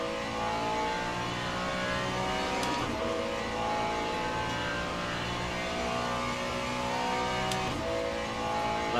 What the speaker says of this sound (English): Here comes the Porsche for attempt 2.